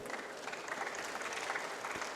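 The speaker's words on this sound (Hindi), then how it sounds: "ये ताली किस लिए बजा रहे हैं आप लोग?" Audience clapping during a religious discourse, a faint, steady patter of many hands applauding continuously without pause.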